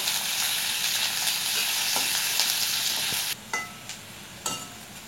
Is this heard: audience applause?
no